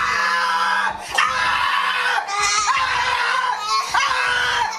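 A child screams and yells loudly in a long, shrill, strained outburst that breaks off briefly only a few times.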